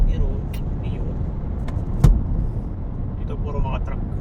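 Trucks and cars pass along a busy highway truck road near Abu Dhabi leading toward Saudi Arabia. A steady low traffic rumble carries one sharper thud midway, with faint, muffled voices in the background.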